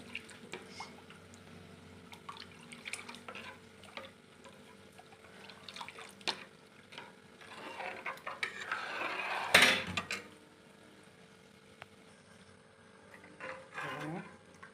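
Nolen gur, date palm jaggery, being stirred into cooled boiled milk in a pot, faint scraping, dripping and clinking with one louder clatter near the middle, under a voice talking.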